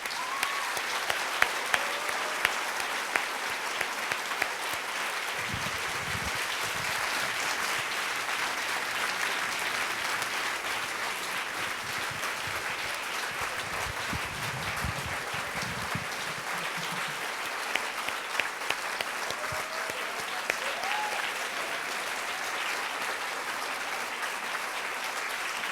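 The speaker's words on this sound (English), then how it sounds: "Please, let's give him a round of applause." Audience applause at an afternoon conference session on social good, a sustained, even round of clapping from a large crowd filling the whole stretch, with a few louder bursts and faint low rumbles beneath.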